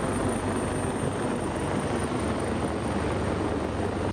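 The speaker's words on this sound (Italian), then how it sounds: "abbiamo visto l'elicottero sorvolare la zona" Helicopter flying over an area along the Naviglio canal between Dolo and Stra, a dense continuous rotor and engine roar, loud and close, holding steady before cutting off abruptly.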